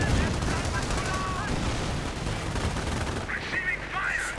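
A strategy war game plays a dense, continuous battle soundscape of rifle and machine gun fire with distant explosions, a loud unbroken wash of combat noise throughout.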